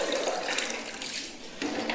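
Camphor water pours steadily in a broad, continuous splash during the ritual washing of a body for burial, close and alone without talk.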